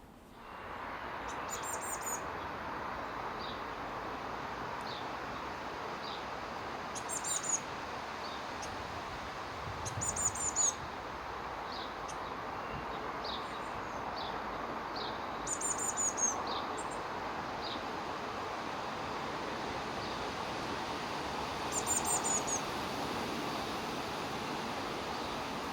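Small bird chicks near sycamore trees on a rainy June allotment give short, high chirps in scattered bursts over a steady wash of rain or ambient noise, with occasional brief louder call clusters.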